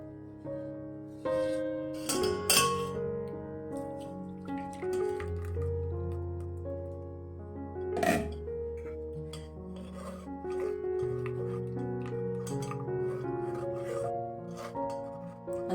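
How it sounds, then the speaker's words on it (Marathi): Tamarind, jaggery and date water being pressed through a sieve makes scraping, rasping rubs and soft wet squishes, with intermittent sharper scrapes over a steady background tone. "अशा पद्धतीने सगळं ते चिंचगुळाचं पाणी मी गाळून घेते"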